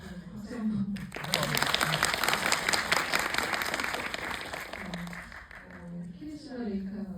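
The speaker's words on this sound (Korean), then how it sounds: "박수 한번." Audience applause at a film's third-anniversary screening with guest talk, a dense sustained clapping wash lasting several seconds, with a voice speaking briefly before it begins and again as it fades.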